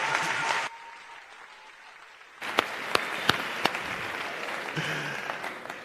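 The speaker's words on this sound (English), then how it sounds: "Please give him a nice round of applause." Clapping from an audience at a theatre awards show starts, drops to a quiet lull for about two seconds, then returns as dense applause with a few sharp, loud individual claps.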